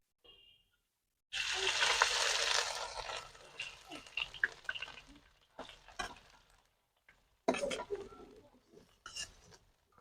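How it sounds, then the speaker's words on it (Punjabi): Turmeric dropped into hot desi ghee bursts into a loud, hissing sizzle that fades over a couple of seconds, followed by intermittent stirring scrapes and clinks against the pan. "ਘਿਓ ਆਪਣਾ ਗਰਮ ਹੋ ਗਿਆ ਤੇ ਇਹਦੇ ਵਿੱਚ ਆਪਾਂ ਪਾਵਾਂਗੇ ਹਲਦੀ"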